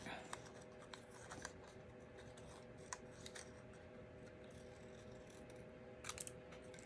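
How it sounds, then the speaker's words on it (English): Quiet scissor snips and paper rustling come in short, irregular bursts, close by, as stamped paper flowers are cut apart for a card, with a faint voice murmuring underneath. "just take my scissors and cut these apart"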